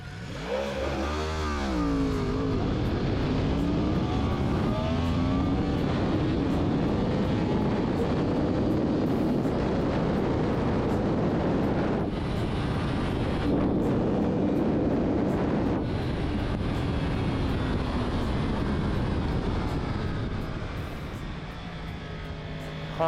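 Yamaha YZF-R1 sport bike launching with launch control on an open road, engine revving hard then pulling through long rising high-pitched wails and gear changes, loud and close with strong wind rush.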